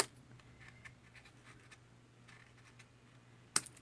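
Scissors or a trimmer cutting small cardstock pieces for a handmade Stampin' Up rustic card, quiet light snips and scratchy paper sounds, ending in one sharper louder cut near the close.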